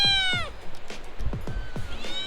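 A cat in Neelam Valley, Azad Kashmir, meows several times in quick succession, close and clear, each call a short rising-and-falling cry with brief pauses between.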